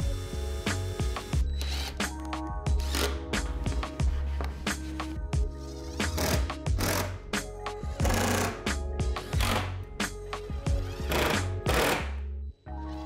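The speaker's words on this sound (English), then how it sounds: "I'm drilling holes and driving in the screws from the backside" A power drill and driver bore holes and drive screws into a wooden king headboard in a workshop, with repeated short whirring bursts of varying length separated by brief pauses, close and fairly loud.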